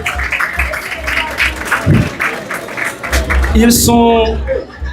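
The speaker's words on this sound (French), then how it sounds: "On les applaudit, mesdames et messieurs" Audience applause at a live event honoring its organizers, a burst of clapping from a crowd with voices talking over it and some cheering near the end.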